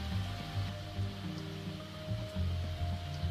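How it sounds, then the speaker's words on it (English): Heavy rain in a storm from the visual novel SeaBed, a steady wash of falling water under low tonal music. "Heavy rain poured all over me."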